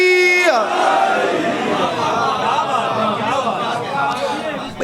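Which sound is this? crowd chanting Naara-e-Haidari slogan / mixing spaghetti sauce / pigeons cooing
crowd chanting Naara-e-Haidari slogan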